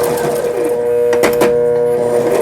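A Brother GS2500 sewing machine stitching a zigzag seam, giving a steady mechanical hum and whir with a few louder clicks partway through, close and alone with no talking.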